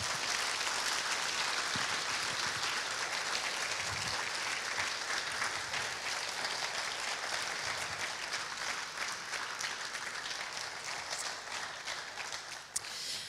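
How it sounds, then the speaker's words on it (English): Sustained audience applause at a TEDx youth event, a dense steady wash of many hands clapping that holds for the whole stretch with no talking over it. "a round of applause for that woman would also be important"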